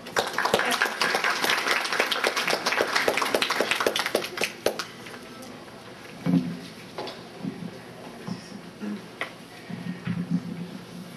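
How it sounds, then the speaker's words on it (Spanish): Applause from a conference audience welcoming a speaker to a legal lecture, steady clapping for several seconds that fades into scattered claps and faint noises. "Lo recibimos con un fuerte aplauso."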